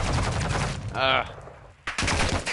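Dense gunfire from the video game Modern Warfare 2 during a prisoner rescue mission, loud and continuous, with a brief lull in the middle before the shooting resumes.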